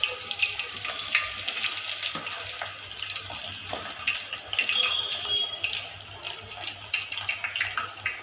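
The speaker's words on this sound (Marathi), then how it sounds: "तेल तापलं की मग पहिले कांदा सोडायचा" Chopped onion dropped into hot oil gives a steady, dense sizzling hiss with scattered fine crackles that keeps going without a break, and a faint voice surfaces now and then.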